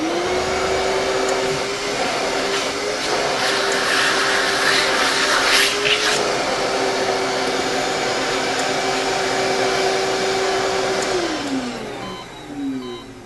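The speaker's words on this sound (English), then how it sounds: "There'll be a little noise here with the vacuum." A vacuum at an animal shelter runs steadily with a constant whining drone and airy rush, holding its pitch for several seconds before winding down at the end.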